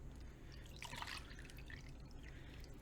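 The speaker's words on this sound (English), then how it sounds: "We're going to pour out our vinegar" Vinegar is poured from a vessel into a container, a faint, brief trickle and splash near the middle over a quiet background hum.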